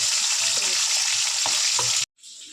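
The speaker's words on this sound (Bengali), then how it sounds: "অল্প অল্প করে ভেজে নেবো, হালকা হালকা করে।" Bhetki fish bones frying in a pan of oil, a steady close hiss with small crackles and pops that runs on and then cuts off abruptly near the end.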